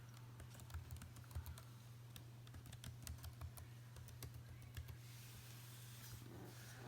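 Rapid, uneven clicking of keys typed on a Chromebook keyboard, held at an awkward angle, close and fairly quiet over a steady low electrical hum, with brief pauses between bursts.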